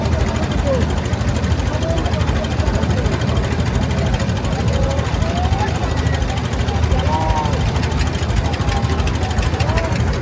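A large river boat's engine drones steady and heavy, rumbling continuously, low and loud, with faint higher tones drifting over it.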